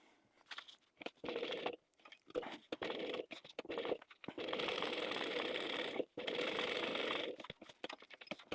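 A sewing machine topstitches around the edges of a fabric zip pouch. Short stop-start bursts of quick mechanical buzzing are followed by two longer steady runs, close up and fairly quiet.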